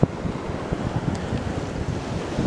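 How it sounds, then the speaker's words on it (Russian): Rough sea surf rolls onto a stony beach at Batumi, a steady low wash of waves mixed with wind buffeting the microphone, with no voices. "Вы слышите море?"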